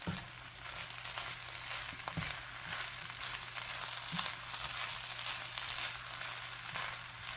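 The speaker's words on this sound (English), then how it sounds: "Now what I'm going to do is basically just stir them into the rest of the rice." Scrambled eggs stirred through rice frying in a hot pan, giving a steady, close sizzle with occasional scrapes and knocks of the utensil, and no voices.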